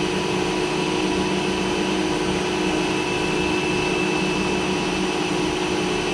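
A large 1960s metal lathe runs under power feed driven off the lead screw, set for 23 threads per inch, giving a steady continuous motor and gear hum with a constant whine, unbroken and fairly close throughout.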